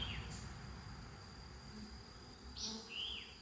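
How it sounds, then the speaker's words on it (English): Honeybees in a backyard hive during a first inspection, a faint continuous low buzz with a couple of brief bird chirps on top. "These bees do have a pretty gentle demeanor."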